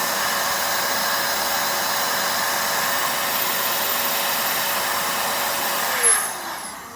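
Steady, loud whooshing blast from an air duster fitted with a dust brush, a constant hissing rush of air that cuts off abruptly near the end, leaving a fading whir.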